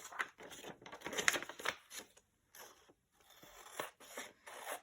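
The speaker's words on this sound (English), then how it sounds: "Use my scissors to get this cut through." Scissors snip and scrape through paper while a mini glue book with flower pieces is made, several short crisp cuts with brief pauses between them, close and fairly quiet.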